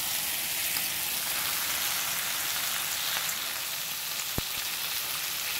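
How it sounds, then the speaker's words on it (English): Bacon fries in a pan with a steady, dense hiss of sizzling fat, close and continuous, with a faint crackle popping out near the end. "I'll show you here, you know, the bacon cooking there"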